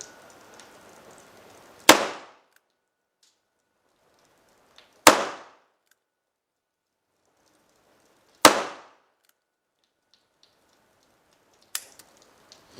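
Gunshots at a shooting range, four sharp single reports spaced about three seconds apart, each with a quick decaying echo, the last one quieter, with near silence between.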